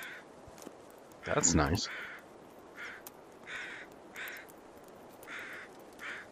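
In the survival game The Long Dark, several crows caw in short, repeated calls off to one side at moderate distance against a low ambient hum, while a person speaks briefly over one of the calls.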